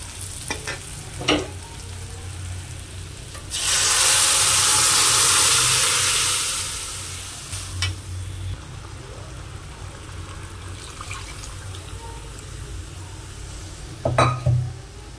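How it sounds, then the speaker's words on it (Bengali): Onions frying with nigella seeds, chilli, salt and turmeric, a moderate sizzle with scattered stirring clacks and a loud hissing surge in the middle that fades back to a steady crackle. "পেঁয়াজটা ভালো করে ভেজে নেব"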